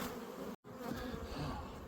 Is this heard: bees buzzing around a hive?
yes